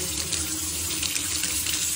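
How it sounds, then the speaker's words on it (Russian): Water gushes from a tap at an outdoor washbasin of a house, a strong, steady hiss and splash that runs continuously and close by with no voices. "Давайте посмотрим напор воды."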